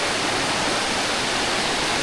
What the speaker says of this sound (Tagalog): Maagos yung malinaw na tubig.